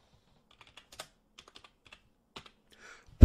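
Scattered key presses on a computer keyboard, close and quiet, come in short bursts separated by irregular pauses.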